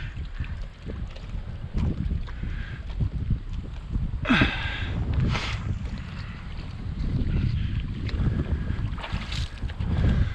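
Strong wind buffets the microphone in heavy gusts over a swamp, with rumbling low roar and occasional splashes of water from a boat.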